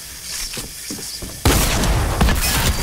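Rapid bursts of Fortnite gunfire fill a short stretch, a thinner stretch of shots giving way to a loud, dense volley with heavy low thumps in the second half.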